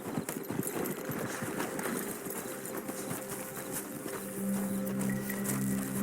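Horses in the video game Red Dead Redemption 2 walk as their riders dismount, their hooves clip-clopping in a steady, fairly close rhythm over a low ambient background.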